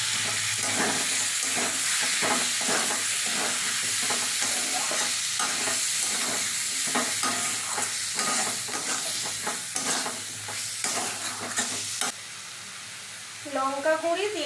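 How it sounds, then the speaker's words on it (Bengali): Vegetables sizzle in a pan while a ground spice paste is stirred in, giving a steady frying hiss cut by rhythmic scraping strokes, close up, with a brief voice near the end. "সবজিটা ভালো মতন ভাজা হয়ে গেছে, এবারে আমি মশলাটা যে বেটে রেখেছিলাম সেটা দিয়ে দিচ্ছি।"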